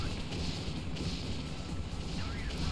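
Rockets fire in a PS1 demo disc video game, a dense, continuous rumble of blasts and explosions that holds throughout at moderate level.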